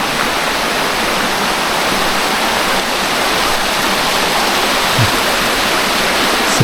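A river beside a village in the forest rushes loud and steady, a dense unbroken wash of water noise close by, with no voices.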